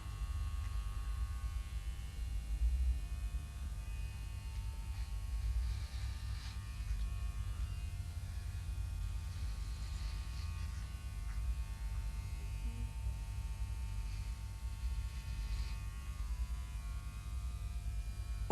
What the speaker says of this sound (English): Beard trimming so easy when you use your guides.